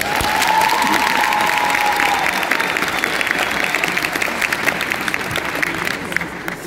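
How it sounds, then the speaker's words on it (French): Sustained applause from a large crowd fills the whole stretch, dense and steady, with a few faint voices and a brief high tone early on. "encore un tonnerre d'applaudissements pour tous ces artistes."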